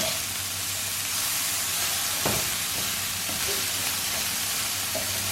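Food tossed in a hot pan sizzles steadily as it browns, with scraping stir sounds and occasional clicks of a utensil against the pan, close and continuous without talk.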